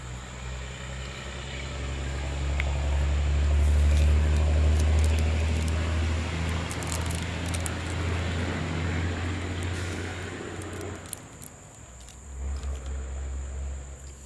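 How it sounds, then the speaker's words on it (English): A truck drives past outside as a broad, low rumble that swells over several seconds and then fades away, leaving a faint steady hum. "We're gonna pause because the truck going by."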